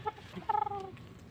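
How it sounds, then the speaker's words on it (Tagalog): A restless chicken lets out a short squawk, then a quick burst of harsh, rising clucks, fairly close and loud against a quiet background. "Sobra ang likot nitong manok"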